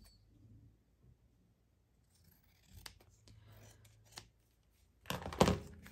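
Scissors snip through excess envelope paper in a few short, crisp cuts, quiet at first and then louder and closer near the end.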